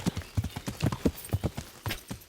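Hooves clop in a quick, uneven rhythm as a horse moves in Kingdom Come: Deliverance, close and distinct, with a faint whinny-like sound.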